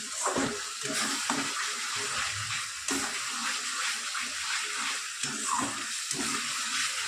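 Masala with raw prawns sizzles and scrapes in a hot pan for a Bengali prawn curry, a steady loud frying hiss broken by repeated stirring strokes.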